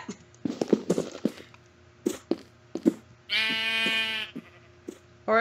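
In a video game, a single long sheep bleat stands out after a run of soft taps and footsteps.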